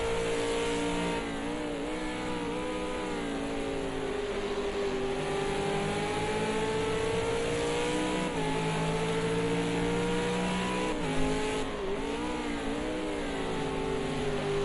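An Australian V8 race car at Road America screams down the straightaway, its engine a sustained, loud high-revving wail with rising and falling pitch as it shifts, steady throughout with no voices.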